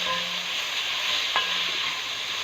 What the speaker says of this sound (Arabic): نقلب في البصلايه شويه لحد ما تتحمر سنه مع اللحمه